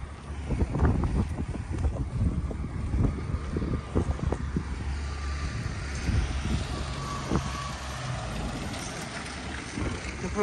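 Wind buffets the microphone in strong gusts outdoors at a Copart vehicle auction yard, a steady low rumble with vehicle noise faintly behind it and no clear talk.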